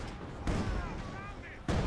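A field gun booms twice in the real-time strategy game Company of Heroes 2 as it tears into German Panzer tanks, each loud, sharp blast sitting over steady battlefield noise while a commentator talks throughout.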